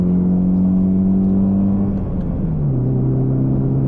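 A Mercedes 190 engine drones loudly from onboard as the car climbs a steep uphill stretch of the Nürburgring Nordschleife, a steady low hum that dips and settles into a lower pitch partway through, as if after a gear change.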